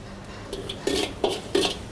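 Garlic and black pepper sautéed in a big wok, a run of close metallic scrapes and clanks from a utensil against the pan, growing louder and more regular.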